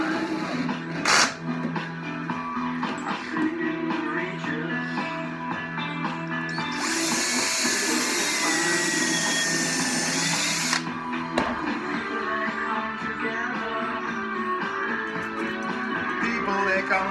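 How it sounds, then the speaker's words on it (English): Power drill driving a screw into a wooden stool rail, a sustained high-pitched whine of several seconds, close and loud amid lighter workshop handling noises. "tapped it down, and drilled it again, so that when I put the screw in, it doesn't pull it back up"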